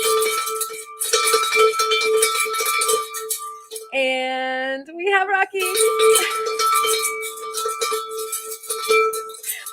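A bell rung to welcome members at a live Friday night event sounds bright, sustained clangs at the start and end, with one person speaking briefly in the middle between rings.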